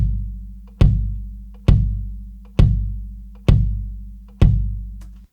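Five dry kick drum hits at an even, slow pulse, each a deep thump with a low ringing tail, isolated with nothing else playing.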